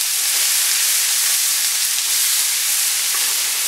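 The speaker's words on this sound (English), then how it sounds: "Now that the oil is heated, I'm going to add the onions." Onions dropped into heated cooking oil give a steady, loud hiss and sizzle that holds evenly throughout with no talking.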